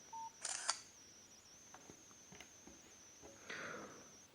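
Nokia Asha 302 phone taking a photo: a short beep, then a quick electronic shutter burst, faint ticks and a thin steady whine, and a second softer shutter-like burst near the end, all quiet and close with no talking.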